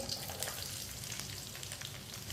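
Green chillies frying in a pan for bhindi fry, a continuous bright crackling sizzle with fine popping, close and fairly quiet, no talking.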